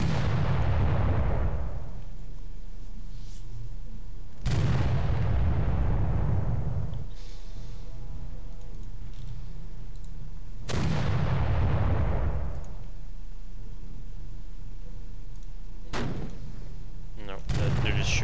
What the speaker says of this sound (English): No, they're just shooting normal guns.